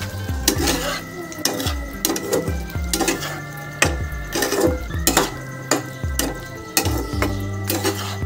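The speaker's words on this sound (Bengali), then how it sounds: "আলুটাকেও এবার আমি মশলার সাথে ভালো করে কষিয়ে নেবো 2-4 মিনিট আরও।" Fried potatoes are stir-fried with spices in a pan for a vegetarian soyabean dish on medium flame, with a regular rhythm of loud spatula scrapes and clanks over a soft sizzle, no talking.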